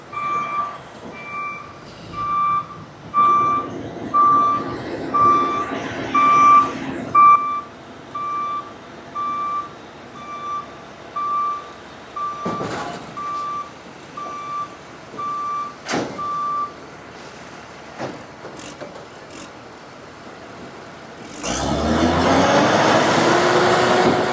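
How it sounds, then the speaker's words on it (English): A boom truck lifts a trailer while a reversing alarm beeps in a steady repeating pattern, with engine rumble, clanks and a louder burst of hydraulic and engine noise at the end. "We're picking the trailer up right now."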